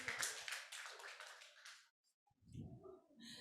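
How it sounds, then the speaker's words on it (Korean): Applause from a conference audience at a lecture, loud dense clapping for about two seconds, then a short silence before a voice begins speaking. "박수 한번 보내주시기 바랍니다"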